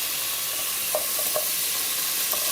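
Onions frying in butter for a mutton pulav, a steady, close sizzle with a few faint stirring clinks and no voices.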